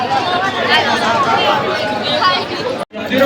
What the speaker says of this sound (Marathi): बघा केवढी गर्दी आहे.